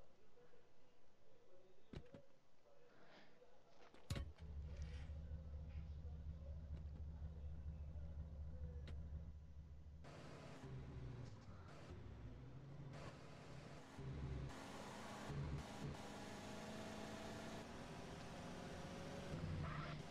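A car driven in the video game GTA San Andreas, its engine giving a steady low hum that shifts into a louder, busier rumble with passing traffic noise partway through.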